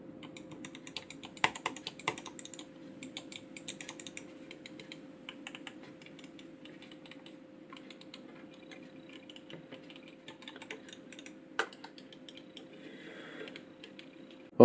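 Quick, busy clicking of wireless mouse buttons, a Logitech G403 with mechanical button tension, sharp close clicks in fast irregular runs and occasional louder snaps, without any voices.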